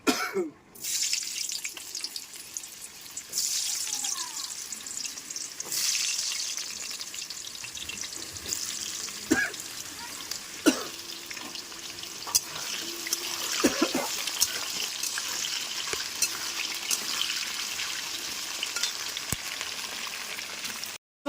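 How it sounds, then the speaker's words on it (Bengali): Potato pieces fry in hot white refined oil in a wok, giving a constant bubbling sizzle with occasional clinks and stirring taps over a long stretch. "তো সাদা রিফাইন অয়েলটা গরম হয়ে গেছে কড়াই, এবার আলুগুলো দিয়ে দেবো ভাজার জন্যে"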